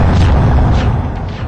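A loud explosion as a T-72 tank's round strikes its target, a heavy low boom that rolls on and fades slowly over about a second and a half.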